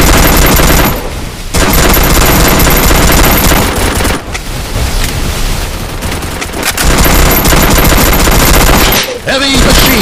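Heavy machine gun fire in a mobile shooter match, loud sustained bursts of rapid shots broken by brief pauses, close and dominant throughout.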